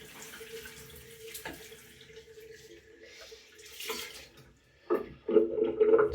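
Water runs from a tap to rinse a bar of homemade soap, starting softly and swelling into a close, steady splashing stream near the end, with faint handling sounds before it.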